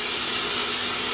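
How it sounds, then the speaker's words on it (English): Cooking oil sprayed from a can onto a hot pan on a hot plate, a single loud, steady hiss lasting about a second, heard alone. "I'm going to spray just where the sausage goes"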